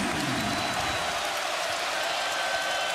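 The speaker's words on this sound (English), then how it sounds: "Crowd now, after that 3-pointer" A basketball arena crowd of Purdue and Iowa State fans roars and applauds after a three-pointer, a broad, sustained wash of cheering that fills the whole stretch with no let-up.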